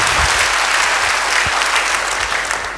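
A church congregation claps loudly during a Pentecost worship service, with dense, energetic applause that fills the space and fades slightly at the end.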